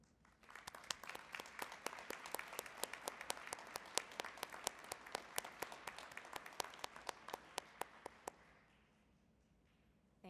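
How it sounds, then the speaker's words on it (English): An audience at a nursing pinning ceremony applauds for several seconds with sharp, distinct claps that thin out and stop near the end, heard without voices at a fairly low level. "please stand for recognition and applause"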